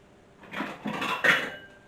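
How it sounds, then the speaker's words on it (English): Ceramic bowls clatter as a handful is lifted from a kitchen cupboard, three close clinking bursts of dishes knocking together, with no talk. "Just grabbing a handful of bowls."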